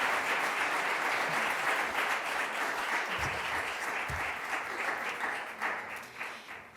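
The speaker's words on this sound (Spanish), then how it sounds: "voy a pedir un aplauso para Aitor, Anita, Noar, Itziar y Irache" Audience applauding panel speakers at a Spanish urban rights conference session, a steady, dense wash of clapping sustained throughout that tapers slightly toward the end.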